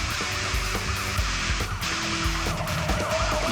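A police cruiser rams a fleeing suspect's car off the road during a pursuit, with a loud, continuous engine roar, heavy thuds and impacts, and a faint siren mixed into the dense, busy noise.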